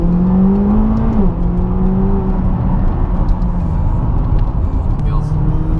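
A 2017 McLaren 570 engine driving in track mode, a steady close loud drone that dips and shifts pitch around a gear change, with road rumble throughout.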